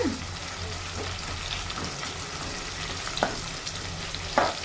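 Chopped onions fry in a pan for a gongura prawn curry, a steady close sizzle with occasional stirring scrapes and small clicks throughout, no voices.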